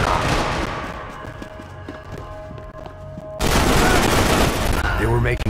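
Gunfire in a Max Payne 3 multiplayer deathmatch, with scattered shots under a busy mix that breaks into a loud, dense burst of rapid firing near the end.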